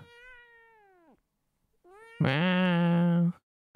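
A person imitates a cat, giving two drawn-out meows, the first softer and the second loud and sustained, with a brief silence between.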